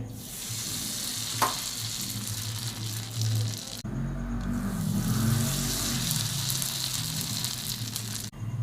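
Raw mango papad fries in very hot oil, a loud continuous sizzle and crackle that keeps going with a brief dip midway and a short break near the end.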